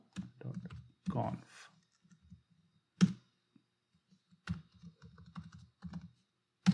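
Someone types on a computer keyboard in short bursts of clicking keystrokes with pauses between them, heard close and moderately loud, while a person talks at the same time.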